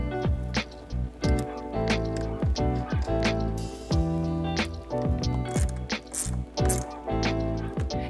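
A 10 mm ratchet wrench tightens the negative battery terminal nut on a Porsche 997, giving a steady run of close, loud, rapid ratchet clicks in repeated strokes with no talking.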